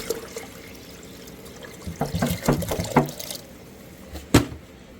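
Water dumped into a Kool-Aid container to mix a 50-50 coolant batch while replacing the water outlet manifold on a Chevy Cruze: a few seconds of glugging, splashy pouring, then a single sharp knock.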